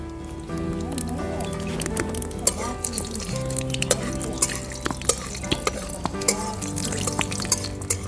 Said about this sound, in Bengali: তেল গরম হয়ে গেছে ফোড়নে দিয়ে দেবো শুকনো লঙ্কা আর তেজপাতা ফোড়নে দিয়ে দেবো কালো জিরে